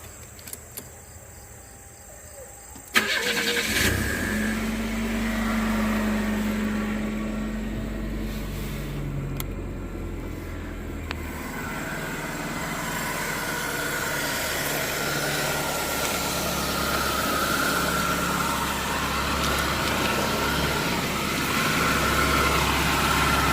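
A 1991 Buick Skylark cranks and catches with a sharp start, then settles into a loud, steady idle that runs alone for a long stretch, with a faint jingle of keys at the start.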